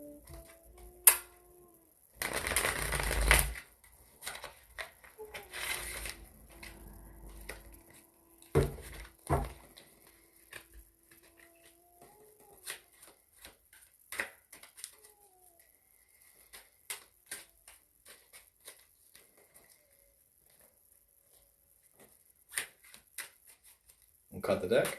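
Tarot cards riffle and slap together in a few quick bursts, followed by softer shuffling and taps in a quiet room.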